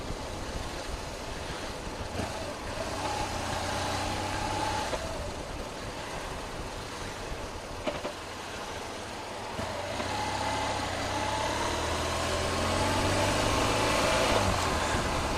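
A car engine runs steadily while driving, a low, continuous rumble with road noise that swells slightly toward the end, no talking.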